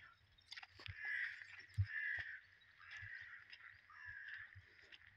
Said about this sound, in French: On entend les corbeaux.